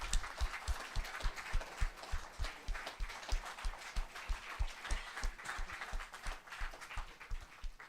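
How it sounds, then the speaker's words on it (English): Audience at a young authors' book launch applauding, with steady, fairly quick clapping from many hands that sounds soft and a little distant and continues evenly the whole time. "Ladies and gentlemen, let's motivate them with a big round of applause."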